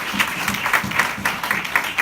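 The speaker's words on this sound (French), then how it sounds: "Si tu es là ce matin, applaudis pour toi-même." A church congregation applauds during a Sunday morning sermon, steady dense clapping from many hands with a faint rhythmic pulse, fairly loud and continuing throughout.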